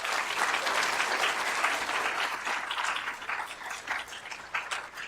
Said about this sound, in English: can we have a round of applause for them again